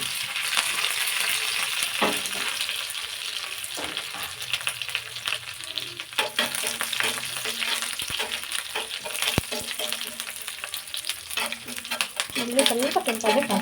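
Garlic, dried red chillies and curry leaves frying in hot oil, a loud continuous sizzle with crackles and scraping stirs, spiking as ingredients drop in; faint voice briefly underneath.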